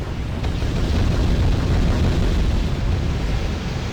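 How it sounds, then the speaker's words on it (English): Massed bombers striking tanks in the strategy video game R.U.S.E., a loud continuous roar of rumbling explosions and booms blending into dense, sustained noise. "I'm sending them all forward to bomb, yeah, to bomb these tanks over here."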